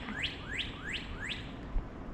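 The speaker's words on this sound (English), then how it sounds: "there's a cardinal right here by this telephone pole" A cardinal gives four rising, whistled chirps at an even pace beside a telephone pole on a city street, clear over a steady low hum of urban traffic.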